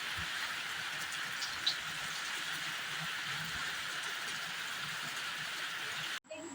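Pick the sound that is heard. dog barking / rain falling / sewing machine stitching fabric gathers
rain falling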